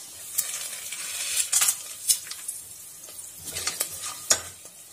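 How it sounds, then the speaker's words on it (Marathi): Whole spices sizzle and crackle in hot oil in a pan, a steady close frying hiss broken by sharp pops and occasional stirring scrapes. "आपण आता सगळ्यात अगोदर तेलात खडा मसाला टाकून घेऊ।"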